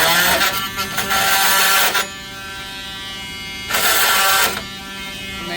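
An oscillating multi-tool running during a kitchen remodel, a loud buzzing whine in two bursts with a quieter idle hum in between, close and without voices.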